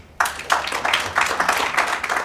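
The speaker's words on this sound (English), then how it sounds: "Please give him a round of applause." An audience at a talk on telemedicine regulation breaks into applause, a sudden burst of close, dense hand clapping that starts sharply and keeps going steadily, with no voices over it.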